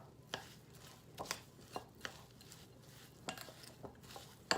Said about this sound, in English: And then we'll mix this together.